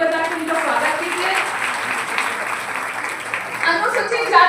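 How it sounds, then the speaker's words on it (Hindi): Audience at a BJP women's felicitation event breaks into steady, loud applause of welcome, a dense sustained clatter of many hands with faint voices mixed in, swelling slightly near the end. "उनके लिए भी जोरदार ताली बजा के उनका स्वागत कीजिए।"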